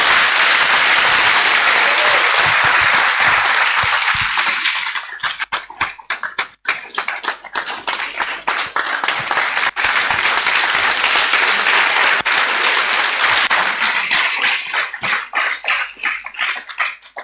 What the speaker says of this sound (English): with a very loud applause, welcome her to stage